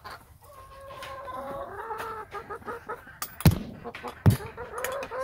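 A hen clucks repeatedly in a backyard coop after laying an egg, a nearby run of excited, rhythmic calls with two sharp, louder bursts near the end.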